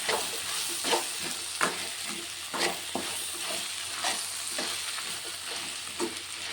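Methi broad bean curry with chili powder being stirred in a hot pan: a steady sizzle with repeated scraping strokes of the spoon every second or so, close and moderately loud, no voices.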